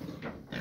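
A piglet on a small farm gives two short, close grunts in quick succession, nasal and low, with nothing else around them.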